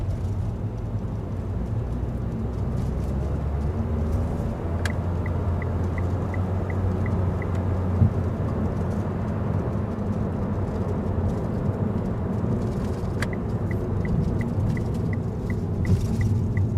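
A car travels over a rough, loud road surface, making a constant low rumble and tire roar that runs unbroken, with a few faint high ticks and chirps passing over it.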